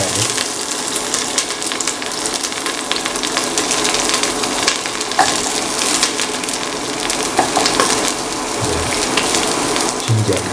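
Ingredients frying in a pan for a tomato potato rice dish, a steady broadband sizzle with occasional clinks and scraping of stirring throughout, no talk.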